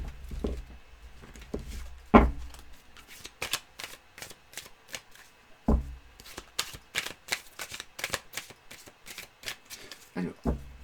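Stiff cardboard tarot cards shuffled by hand, a rapid run of close, crisp riffling flicks and slaps repeating steadily, with a few louder knocks.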